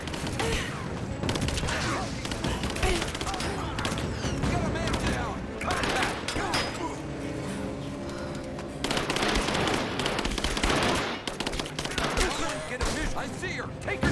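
Bursts of gunfire rattle through a firefight in Rise of the Tomb Raider, rapid volleys of shots at close range continuing for many seconds, with voices calling out over the shooting.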